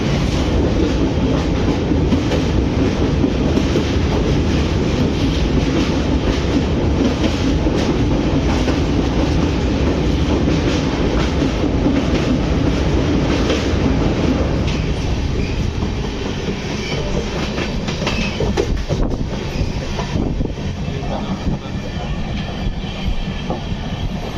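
A Maha Kumbh special train pulls away from Itarsi Junction with a loud, constant rumble and clatter of wheels on track heard from on board. The sound eases slightly toward the end.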